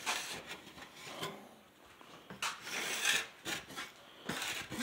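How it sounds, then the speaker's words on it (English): A sheetrock knife scrapes across knockdown texture on a drywall surface, a series of close, gritty rasping strokes of uneven length with brief pauses between them, fairly quiet and without talk. "Take my other sheetrock knife and go here"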